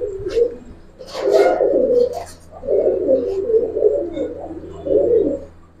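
Giribaz and coloured pigeons cooing close by, several soft rolling coo phrases repeating in bursts with short pauses between them, loud and alone.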